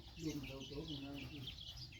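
Hens and their chicks on a rural Lao farm cluck softly and intermittently at close range, while someone talks over them.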